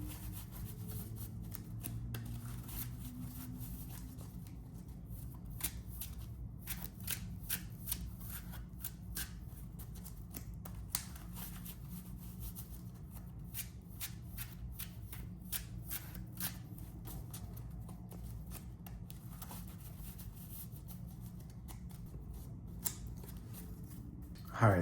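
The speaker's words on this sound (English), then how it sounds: "I'm just gonna go ahead and start shuffling the deck up" Yu-Gi-Oh cards shuffled steadily for about 25 seconds: soft, rapid riffles and card rubbing close by, at a low even level over a quiet room hum.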